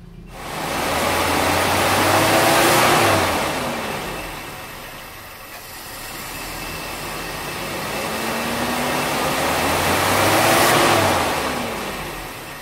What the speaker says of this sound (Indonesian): setelah karburator terpasang dan mesin kita hidupkan, ini kita coba dengan menarik gas itu mulai dari RPM stasioner rendah menuju tinggi